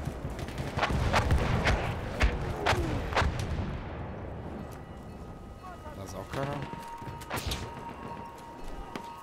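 Several sharp gunshots in a Battlefield 1 multiplayer Rush match ring out early, followed by rumbling booms and a lingering echo, with a constant low background hum.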